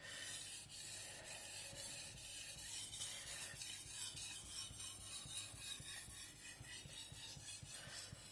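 A knife is stroked across a Suehiro Rika 5000 grit soaking whetstone, producing a soft, steady scraping rasp with repeated strokes, faint and close.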